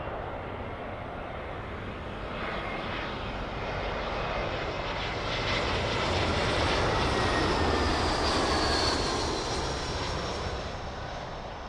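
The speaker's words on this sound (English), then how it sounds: "So here's your British Airways 319 from Stuttgart." A British Airways Airbus A319 from Stuttgart comes in to land on runway 27L at London Heathrow, a sustained loud engine roar building to a peak as it passes close by, then starting to fade, with no talking.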